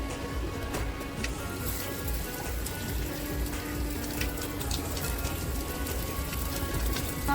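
Hot oil sizzles steadily in a pan during vegetarian Emirati home cooking in Dubai, a dense crackling hiss that stays even and close throughout with no talking.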